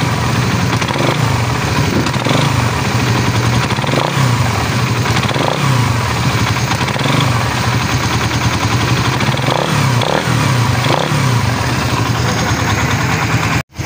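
A Raider 150 Fi motorcycle engine with about 6,500 km on the odometer, already due for an overhaul, runs loud and close with a rough, noisy mechanical clatter, swelling in short revs over a steady idle.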